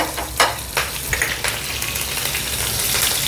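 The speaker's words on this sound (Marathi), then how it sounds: "तूप गरम झालं आहे, त्याच्यात आपण जिरे घालूया" Cumin seeds and chillies hit hot ghee in a small tempering pan, bursting into a loud, close, crackling sizzle with sharp spits and pops over a continuous hiss.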